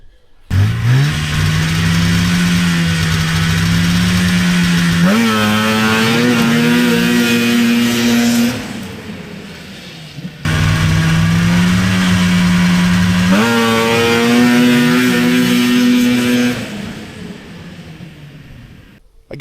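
A drag race car at a Texas test-and-tune day revs hard and launches twice, each run a loud, sustained engine roar that climbs in pitch through the gears before cutting off.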